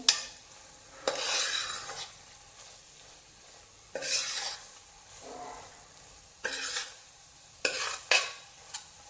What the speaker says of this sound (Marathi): पण सारखं सारखं हलवत राहा नाहीतर खाली लागू शकतो मसाला